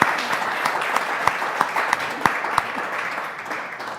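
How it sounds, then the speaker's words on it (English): Audience applause at a coaches show, a sustained wash of many hands clapping with a few sharper claps standing out, fading slightly toward the end. "I'd like to give y'all another round of applause for everything y'all do"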